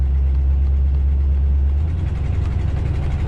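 An RV engine with a suspected exhaust leak idles loudly and close, a heavy low rumble with a faint fast ticking running through it, the tone shifting slightly partway through.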